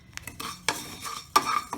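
Whole fennel seeds tip into a pan where fenugreek seeds are roasting for turmeric pickle, followed by a metal spoon scraping and clinking against the pan in a few close, brisk strokes, with a faint dry crackle underneath.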